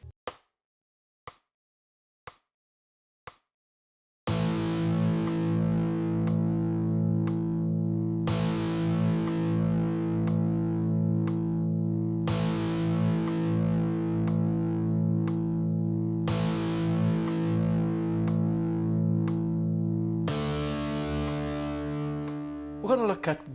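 A few muted string taps, then distorted electric guitar power chords ring out, struck in four long sustained hits before a higher chord closes.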